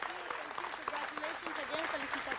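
Audience clapping for domino champions who won a 400-player tournament, a steady patter of applause running beneath a voice talking over it.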